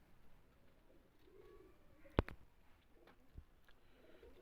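Pigeons brought from Kasur city coo softly in a low, murmuring burst, with a sharp tap and faint rustles nearby; no talking.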